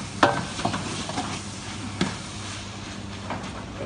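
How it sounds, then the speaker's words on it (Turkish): Spoon stirring caramelizing onions in a pot for onion soup, a steady close sizzle with scraping strokes and occasional sharp clinks against the pot bottom. "Karıştırıyoruz böyle."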